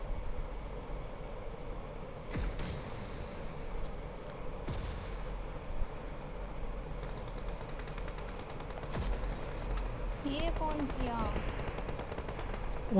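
Gunfire aimed at a window in a multiplayer video game, with rapid automatic bursts and scattered shots over a constant noisy background, plus a sharper flurry of shots near the end; no clear voices.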